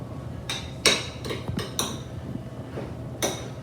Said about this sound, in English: Give it a little stir so it's all mixed in